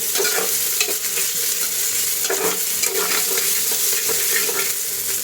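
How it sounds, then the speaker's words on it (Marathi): Crushed ginger and garlic sautéing with onion in a pan for a Maharashtrian rice dish, a loud continuous sizzle broken by repeated spatula stirs and scrapes, no talking. "आता हे पण आपण असं परतून घेऊ अद्रक लसूण."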